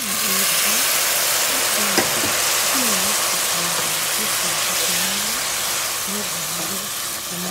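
Vermicelli frying in a pan, a loud, continuous dense sizzle with occasional stirring scrapes, while a person talks quietly beneath it.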